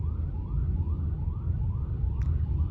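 An ambulance siren wails in a steady, repeating rising sweep over heavy low rumble and background noise, sounding moderately distant.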